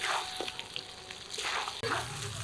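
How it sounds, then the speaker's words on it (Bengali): Katla fish pieces frying and sizzling in a pan with spice paste, a steady close hiss with brief stirring scrapes and a clack near the end, no voices. "মাছ ঢেলে দিলাম মশলার সাথে মাছগুলো ভালোভাবে মিশিয়ে দেবো"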